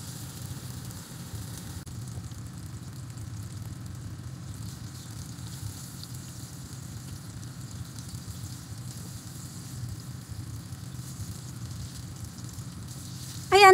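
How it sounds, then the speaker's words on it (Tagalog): Tofu coated in salt and cornstarch fries toward golden brown, producing a faint, even, continuous hiss of oil over a low background rumble, ending in a brief louder clatter. "Fry na po natin ang tofu natin hanggang maging golden brown lang ba siya"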